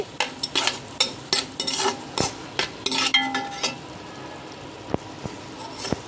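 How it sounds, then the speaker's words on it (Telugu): Biryani masala spices and salt fry in a pot while a metal spoon stirs and scrapes, producing a soft sizzle under irregular sharp clinks and taps that thin out toward the end, with no talking. "ఈ మసాలాలన్నీ ఒక రెండు నిమిషాల పాటు ఫ్రై చేసుకోవాలి"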